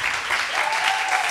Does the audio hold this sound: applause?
yes